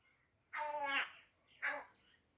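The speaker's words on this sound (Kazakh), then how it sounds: "Мына қарға ғой," A crow caws twice in the open, a long harsh call followed by a shorter one after a brief pause, clear and moderately near against quiet background.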